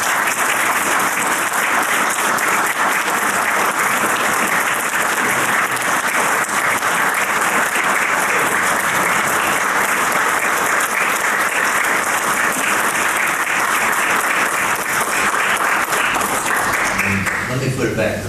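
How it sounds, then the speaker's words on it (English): Sustained applause from a large audience, steady and loud clapping throughout, tapering slightly near the end. "How about a round of applause?"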